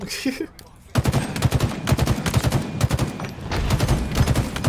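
Rapid three-round bursts from a battle rifle in Halo Infinite fire again and again, loud and close, starting after a brief quiet moment and carrying on steadily to the end.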